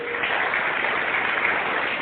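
An audience at a live talk breaks into a short burst of steady, dense clapping that lasts about two seconds.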